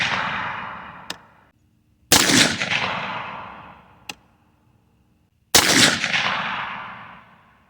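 A 22 TCM rifle with a 12-inch barrel fires outdoors: loud, sharp gunshots each followed by a long ringing decay, with two fainter snaps between, all spaced a couple of seconds apart and no talking.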